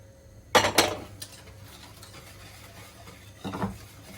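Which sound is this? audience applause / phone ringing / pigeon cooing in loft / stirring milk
stirring milk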